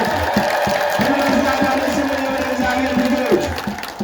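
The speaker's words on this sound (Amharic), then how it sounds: "እልል ብላችሁ እግዚአብሔርን አመስግኑ።" In a church, the congregation ululates in praise together, producing warbling, trilling cries that rise over the crowd in quick repeated pulses.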